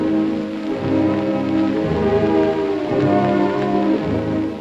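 Light drizzle falls on a June day in 1964 at an outdoor funeral gathering at Gifu City civic centre in Japan, a steady soft patter and hiss that continues evenly throughout.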